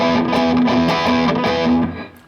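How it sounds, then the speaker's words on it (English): A heavily distorted electric guitar rings out in sustained, buzzing chords with a steady rhythm, loud and close, fading out at the end. "you get to have lots of distortion on your guitar."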